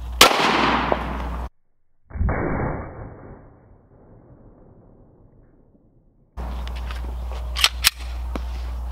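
A Glock 20 10mm pistol firing at sheet metal, with a sharp loud report followed by a decaying ring and a later burst of crackling impacts, all outdoors without speech.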